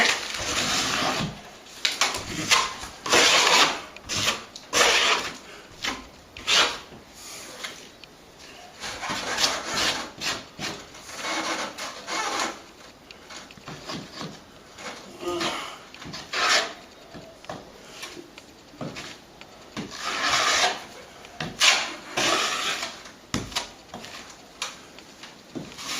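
Filler over a ceiling crack is scraped back in a long series of close, rasping strokes that come in irregular bursts, some harder and louder than others, with short pauses between passes.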